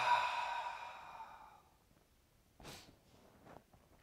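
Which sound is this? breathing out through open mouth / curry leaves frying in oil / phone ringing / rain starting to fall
breathing out through open mouth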